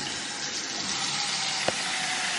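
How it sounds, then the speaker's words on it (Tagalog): Water runs steadily into a container to be heated for coffee, a continuous close hissing gush with a brief knock near the end. "So, mag-init muna tayo ng tubig para mayroon tayong mainit na tubig for coffee."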